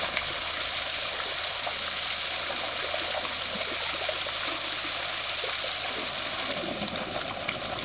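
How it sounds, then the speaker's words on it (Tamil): Village pump set pouring a steady stream of water onto a bather's head, a continuous, loud, close splashing gush that runs unbroken throughout. "இந்த தலையில இந்த தண்ணி படும் பொழுது தலைக்கு ஒரு விதமான அழுத்தம் கிடைக்கிறது"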